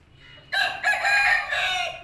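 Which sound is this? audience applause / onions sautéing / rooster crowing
rooster crowing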